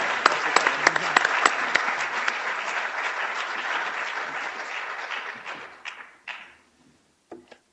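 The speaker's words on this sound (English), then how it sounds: "please join me in giving a round of applause to our panelists" Lecture hall audience at a business ethics event claps for panelists, dense applause with a few sharp close claps early, gradually thinning over several seconds into scattered claps and a few thumps.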